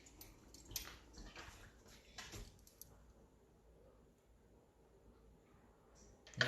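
Punch poured from up high over a large ice cube in a cocktail glass, giving a few seconds of soft liquid splashing and trickling at the start, then quieter clinks and settling, all faint.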